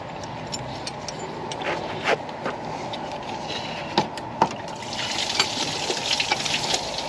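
Water trickling and splashing out as the intake manifold is lifted off a 2000 Ford F-250 5.4L 2V engine, a steady close dribble with a few sharp metallic knocks and clinks, no talking.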